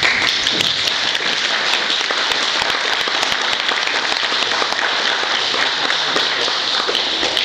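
Sustained applause from a large audience at a public talk, a dense, even roar of many hands clapping, loud and unbroken throughout without speech.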